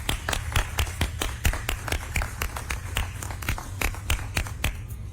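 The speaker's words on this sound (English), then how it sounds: "Please join me in a round of applause for them." A crowd at a city transit grant announcement in Lincoln claps steadily for the multimodal transportation center staff, a dense patter of hands heard close and continuous.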